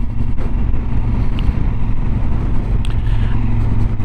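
A steady low thrum comes from a Yamaha 1200 Super Tenere motorcycle engine running nearby, with some wind buffeting the microphone and no talk.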